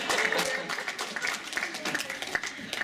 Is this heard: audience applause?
yes